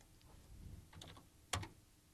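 A few soft keystrokes on a computer keyboard, quiet and close, ending in one sharper single key press; no talking.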